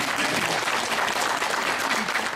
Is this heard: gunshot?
no